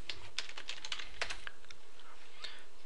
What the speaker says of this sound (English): type in the name of your business